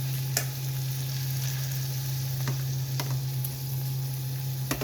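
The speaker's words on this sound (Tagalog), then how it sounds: "Iluluto muna natin siya sa butter." Chicken sizzles steadily in butter in a pan over medium heat, with a constant frying hiss and a few sharp ticks and pops scattered throughout. There is no talk.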